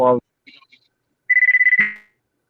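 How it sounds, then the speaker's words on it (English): A short electronic phone ringtone trills in a rapid burst of pulses after a brief voice, clear and close against silence. "It sounded like a phone call."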